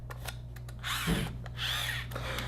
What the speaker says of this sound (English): You can hear the motors turning and stuff like that